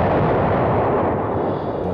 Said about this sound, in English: One of the World War II bombs explodes.